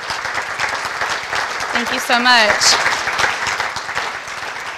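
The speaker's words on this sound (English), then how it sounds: "I'd ask for one final round of applause for everybody that participated." Applause from a meeting-room audience at a candidates forum fills the space as a steady patter of many hands, while someone speaks briefly over it near the middle.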